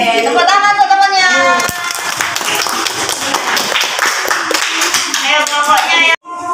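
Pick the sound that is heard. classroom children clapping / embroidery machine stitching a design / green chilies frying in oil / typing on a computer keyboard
classroom children clapping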